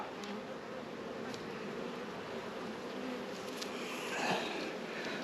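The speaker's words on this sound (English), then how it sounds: "the bees, they absolutely thrive in the Anel hives." Honey bees buzzing at an open Anel beehive in a large UK apiary, a steady, fairly faint drone of many insects that swells slightly near the end.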